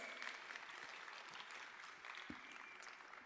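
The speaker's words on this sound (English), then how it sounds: "let's give a big round of applause to round Emily" Pageant audience applause for contestant Emily Rose Demure at the Miss Grand United States final, a steady, moderately distant roar of many clapping hands with a couple of sharper close claps.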